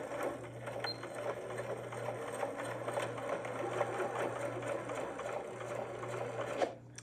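A Janome sewing machine runs steadily as it stitches across the box corner of a tote bag, a close, continuous mechanical whir with a fast needle rhythm that stops abruptly at the end.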